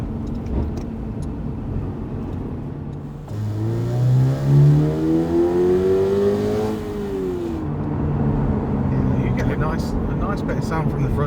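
A Toyota GR86 fitted with a carbon intake revs up hard in 3rd gear, its engine note climbing steadily over several seconds then easing off, loud and close, with talk before and after the pull.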